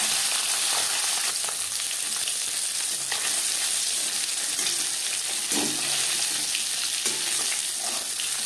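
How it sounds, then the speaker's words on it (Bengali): Pieces of fish fry in hot oil in a pan for a Bengali winter fish curry, giving a steady, close, continuous sizzle and crackle with occasional stirring scrapes and no talking. "একটা সাইড ভাজা হয়ে গেলে অপর সাইডটা উল্টে দেবো।"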